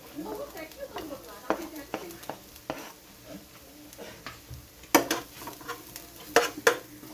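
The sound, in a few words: garlic frying in a pan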